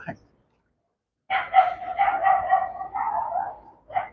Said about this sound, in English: Damn, dog is wilding down there.